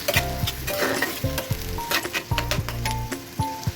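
Onions frying in a pan, loud close sizzling with repeated rhythmic scrapes and knocks of a spatula stirring against the pan, no voices.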